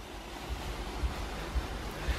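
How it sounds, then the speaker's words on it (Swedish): Water spraying onto the side of a car comes through as a steady broad hiss, loud and continuous, with faint low thumps at regular intervals and no speech. "då tar vi och börjar med att bara blöta ner sidan på bilen"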